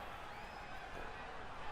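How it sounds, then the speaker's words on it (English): Crowd noise from a virtual wrestling match in a video game, a steady broadband roar of cheering spectators held at an even level throughout. "Look at the crowd, they are loving it."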